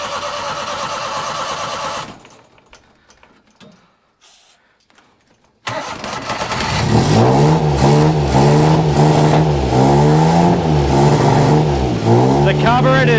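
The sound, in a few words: Thai tuk tuk engine with Mikuni carburetor starting and revving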